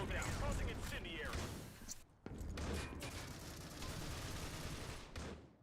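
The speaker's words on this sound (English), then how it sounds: "Lots of shots going down, none connecting thus far." Rapid gunfire in a tactical shooter video game match, with dense overlapping bursts of shots and brief pauses, loud throughout.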